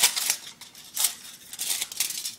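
Scissors snipping thin metal foil to shape a homemade spoon fishing lure, several crisp close cuts in an irregular rhythm with short pauses between them, with no voices.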